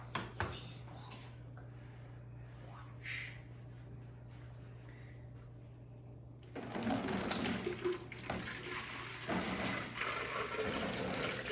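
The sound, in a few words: water rushing into a spinning bottle, model dam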